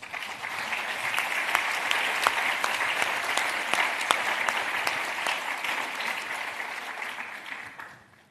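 Conference attendees give a big round of applause at a CSR event, a broad, even wash of many hands clapping that sustains for about eight seconds before quickly fading out.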